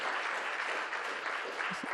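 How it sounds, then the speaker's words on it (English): An audience applauds a harp performance at a literary festival party night in Tiverton, a dense, steady round of clapping that holds at full strength throughout without fading. "a big round of applause for Hazel, please, and her fantastic harp playing"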